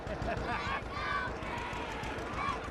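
Children's quick running footsteps patter across the ground while a crowd of voices chatters steadily in the background.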